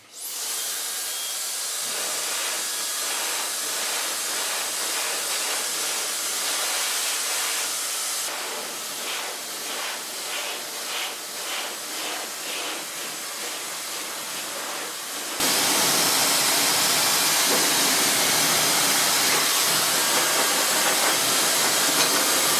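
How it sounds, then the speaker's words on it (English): A hair dryer blows on freshly bleached hair in a steady, close whoosh. The airflow shifts in pitch and strength partway through, then jumps louder and harsher for the final stretch. No one speaks. "Now let's blow dry."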